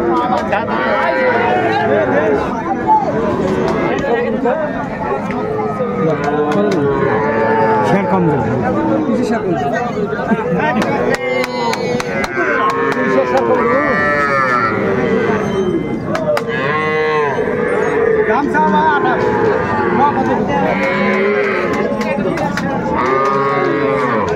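Amid a crowded open-air livestock market in Dinajpur, a small bull calf lets out several moos that blend into the steady hubbub of haggling people talking nearby.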